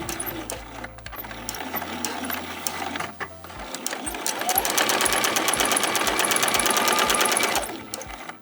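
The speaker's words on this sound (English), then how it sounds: "I'm going to sew from seam to seam, and I'm going to make sure to back stitch at the beginning and the end" A home sewing machine stitches a fabric bin seam from one side to the other, its needle whirring in a fast steady rhythm that starts, pauses briefly, then runs loud and continuous before stopping.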